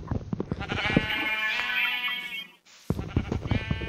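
Sheep in the Minecraft video game bleat in one long, wavering, nasal call that stands out clearly between stretches of someone talking.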